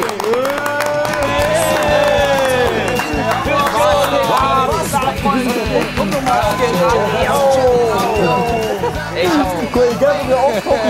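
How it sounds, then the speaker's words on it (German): A studio audience at a German talk show cheers and claps for two arriving guests, a loud, continuous wall of voices and clapping that fills the whole stretch without letting up. "Macht einen riesengroßen, ehrenhaften, epischen Applaus"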